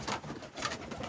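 A homing pigeon cooing softly in a loft, a couple of low throaty coos close by, faint and without talk.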